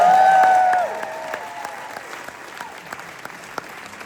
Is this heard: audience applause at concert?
yes